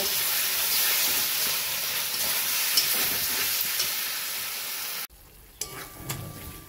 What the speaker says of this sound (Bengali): ভালো করে মশলাটা এবার কষিয়ে নেব।